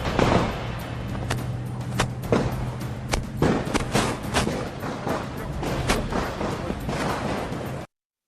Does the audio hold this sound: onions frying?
no